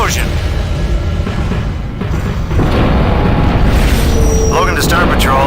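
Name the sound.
explosion at starbase in Tachyon: The Fringe video game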